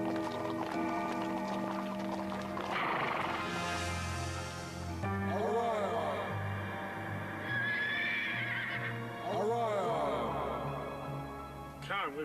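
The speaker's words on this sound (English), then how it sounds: "we've got to return this horse and carriage" A horse pulling a carriage whinnies loudly twice over a steady clip-clop of hooves, set against a dense musical backdrop.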